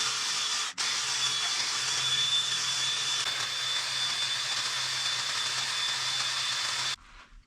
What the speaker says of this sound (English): I'm just going to have this buffing pad on the drill and buff it all up.